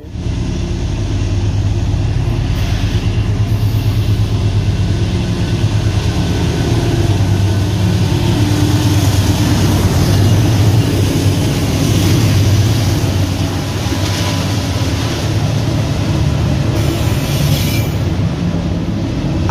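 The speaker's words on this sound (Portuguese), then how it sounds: "trenzão entrando no túnel" A high-speed train accelerating into a tunnel mouth, its loud, steady rolling rumble and rail noise building and holding for nearly twenty seconds, with no voices.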